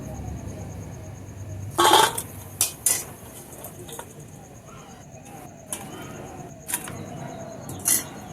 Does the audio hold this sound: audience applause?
no